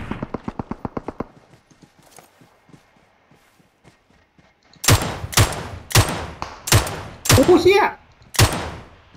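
Sharp gunfire in PUBG Mobile: a rapid burst of close shots at the start, then a series of loud, heavy single shots spaced about a second apart, with an excited voice exclaiming between them.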